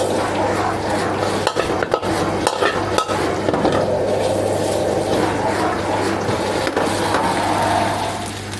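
Pad see ew being stir-fried with wide rice noodles and pork in a wok, the spatula scraping and clanking against the pan in quick irregular strokes over a steady sizzle, loud and close, with no talking.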